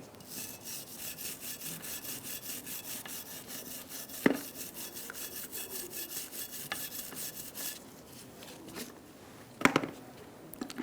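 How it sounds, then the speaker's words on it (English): Wire brush scrubbing brake dust and rust off a Ford Focus rear brake, close rapid back-and-forth rasping strokes with a few sharp metallic knocks, the brushing pausing near the end. "Using a wire brush, you're going to clean in between here. You want to get all the brake dust off and rust."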